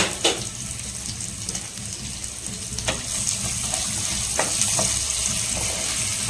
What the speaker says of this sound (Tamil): ஆனியன் வந்து வதங்கட்டும்.